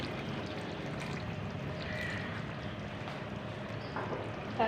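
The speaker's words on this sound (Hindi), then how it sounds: "आधा कप पानी का डाल देंगे" Half a cup of water poured into a pot of potato korma, a continuous watery pour with a faint splash at the end.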